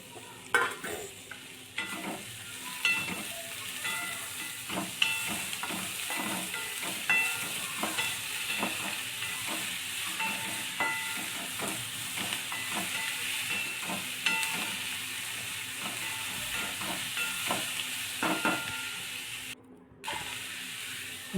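Tomatoes fry with garlic and onion in a pan for a paneer masala gravy, making a loud continuous sizzle with steady scraping stir strokes throughout and a brief drop-out near the end.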